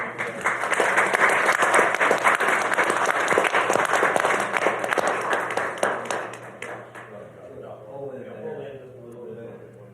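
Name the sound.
audience applause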